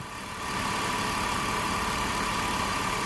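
A BMW 323Ci E46 engine with a running fault idles close by, a steady continuous drone that rises slightly in the first half second and then holds level throughout with no talk.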